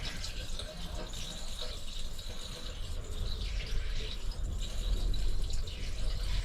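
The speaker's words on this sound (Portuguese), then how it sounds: "eu vou jogar a água aqui no lavatório" Water poured from a container into a motorhome's bathroom sink: a continuous splashing, gurgling stream that runs steadily and grows slightly louder toward the end, with no voices over it.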